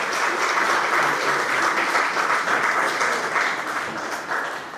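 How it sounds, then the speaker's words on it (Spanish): Applause from an audience at a morning government press conference: a steady, full wash of clapping that holds evenly for several seconds before easing slightly. "pido por supuesto un aplauso"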